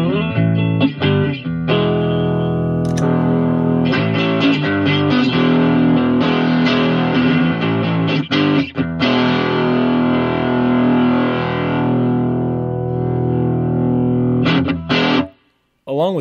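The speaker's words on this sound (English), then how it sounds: "on patch one, I have set up the custom 78 distortion" Guitar played through a custom 78 distortion patch on a MIDI-controlled analog pedal, loud gritty chords and single notes ringing out, with a brief silence near the end.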